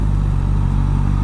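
A 2024 Suzuki GSX-S1000GX sport tourer's engine drones steadily and close up while riding, a low, even growl with a slight rhythmic pulse and no talking over it.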